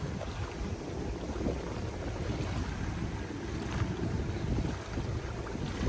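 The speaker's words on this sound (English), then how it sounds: "It is quite windy out there actually today," Strong wind buffets the microphone outdoors at the Ritz-Carlton Maldives resort, a steady, loud, low roaring rumble with gusty swells that lasts throughout, with no talking.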